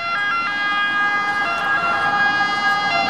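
An ambulance siren wails loudly and continuously on a city street in Rome, its steady tones dominating over a broad wash of traffic noise as it passes close by.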